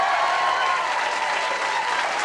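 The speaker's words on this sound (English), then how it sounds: "Give yourselves a round of applause." A studio audience at The Price Is Right game show bursts into loud, sustained applause, a thick, continuous roar of clapping that fills the room without pause and carries no speech.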